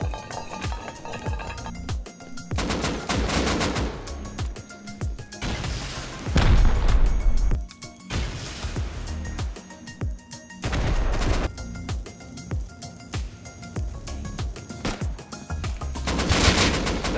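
Gunfire in the survival game Rust, with dense bursts of automatic rifle fire and single heavy shots cracking loudly in repeated volleys across the clip, some clinks and impacts mixed in, no talk.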